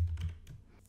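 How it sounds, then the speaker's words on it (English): Quick, light keystrokes on a computer keyboard while an expression is entered in After Effects, a few soft clicks close and alone with no talk. "we can type in that wiggle expression"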